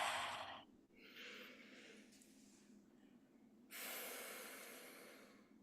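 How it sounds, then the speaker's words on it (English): A slow, audible deep breath drawn in and then let out, close and alone with no talk, the inhale rising then a longer exhale of breathy hiss. "deep breath"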